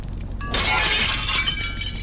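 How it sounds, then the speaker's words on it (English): A thick glass pane in a cabin window, blocked by crates outside, shatters in the video game Inspector Schmidt: one sharp, close crash followed by a brief tinkling spray of fragments. "The pane shatters and the way out is clear, theoretically."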